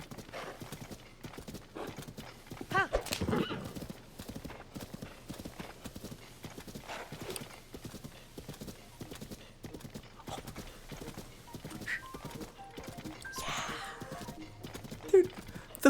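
Horse hooves clip-clop in a fast, steady galloping rhythm in Zelda: Tears of the Kingdom, with riding music and occasional whinnies, while a person talks over the top.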